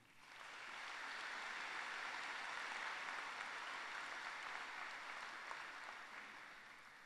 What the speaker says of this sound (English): I'd like a round of applause for those people.